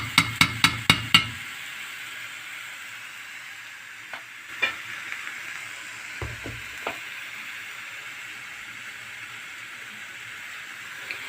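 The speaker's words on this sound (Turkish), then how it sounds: "Şöyle 1-2 dakika soğanımızı yağda gezdirelim" Chopped onions sauté in oil in a pan. A quick run of sharp utensil taps opens the clip, followed by a soft steady sizzle with occasional clinks and scrapes of stirring.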